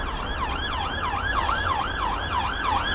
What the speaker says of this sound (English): I can hear sirens, folks.